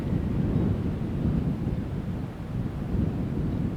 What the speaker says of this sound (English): the gusts started getting up closer to 40 miles an hour